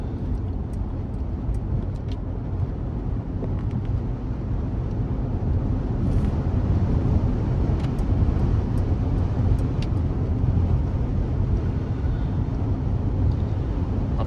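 Mercedes EQS electric car cruising on a highway road trip, a steady broadband road and tire rumble with wind noise heard from inside, continuous and even throughout.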